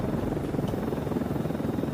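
A helicopter's steady rotor thump and engine roar fill the scene as a continuous, fairly loud sound effect in an audio drama.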